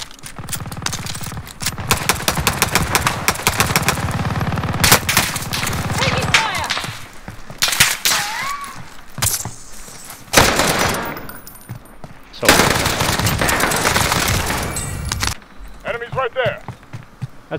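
Type 100 SMG firing in Warzone Pacific, heard as long rapid automatic bursts with gaps between them, loud and close, while someone talks over the gunfire.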